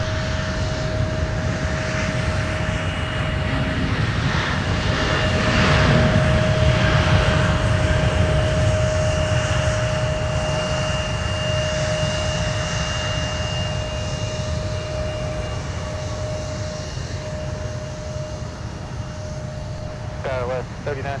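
Jet engines of an airliner at Minneapolis–Saint Paul airport rumble and whine at a distance, swelling slightly then holding steady, while radio chatter from air traffic control plays over the engine noise.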